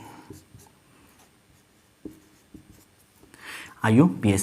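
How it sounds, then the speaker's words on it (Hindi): A teacher writes on a board during a chemistry lesson, producing several soft, separate tapping and scratching strokes spread across the quiet, before a voice starts speaking at the end. "तो यहाँ पे लिख लेते हैं IUPAC।"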